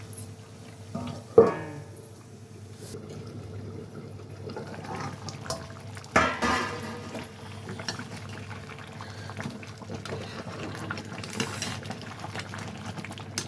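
A metal lid clinks down onto a pot of boiling chicken curry with a short ringing tone, followed by soft bubbling and another clatter as cooking sounds continue.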